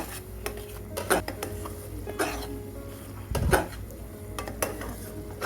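A spoon scrapes and clinks against a pot while chicken is stirred with chili powder, turmeric, garam masala and salt, giving several uneven knocks and scrapes over a soft sizzle.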